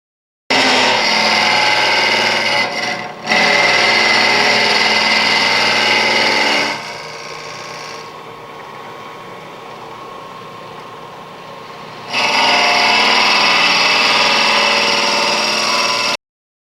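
A wood lathe hums loudly and steadily as a boring bar hollows a natural edge wooden hollow form, with a quieter stretch in the middle before the full cutting sound returns.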